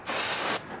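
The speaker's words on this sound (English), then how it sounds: "so we're gonna hit it with some brake clean." Brake cleaner sprayed from an aerosol can onto an engine part of an R56 MINI Cooper during an oil cooler install, a single loud, close hiss lasting about half a second.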